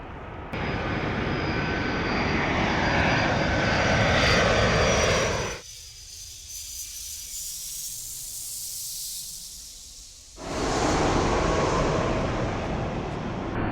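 A roaring Icelandair jet airliner engine at Heathrow with a high whine, loud, then a sudden few seconds of quieter rumble before the roar returns.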